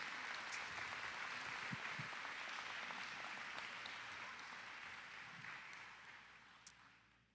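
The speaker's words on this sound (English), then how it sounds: "Let's give them a nice round of applause." Audience applause for a school chorus at a graduation ceremony, a dense steady patter of many hands filling the hall, then gradually tapering off near the end.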